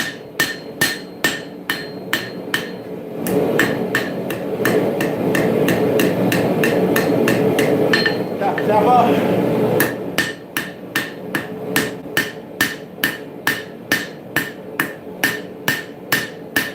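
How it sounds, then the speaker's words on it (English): A hammer forging the bevel of a dagger blade at a smithing anvil: loud, rapid, evenly spaced metallic strikes, then a pause with a roaring forge-like rush, then the steady ringing blows resume. "I'm being very careful not to rotate my hammer down and hammer on that central ridge"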